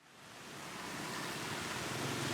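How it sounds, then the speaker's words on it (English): A sudden downpour of rain in Hanoi, a steady broad hiss that builds from quiet to a full, even wash within a second and holds there, moderately faint and with no voices. "A pouring rain comes unexpectedly"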